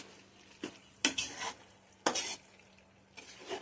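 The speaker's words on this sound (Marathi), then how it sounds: "तर आई याची ढवळून घेता." A spoon stirs jackfruit curry with coconut in a pan, sizzling under a few scraping strokes in quick bursts, close and moderately loud, with no voices.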